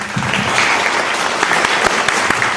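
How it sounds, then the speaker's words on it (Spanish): Strong, sustained applause from an audience at a literary presentation, welcoming a commentator to speak; dense, steady clapping fills the whole stretch at an even, loud level with a few sharper individual claps standing out, and no voice over it. "Fuertes aplausos, por favor."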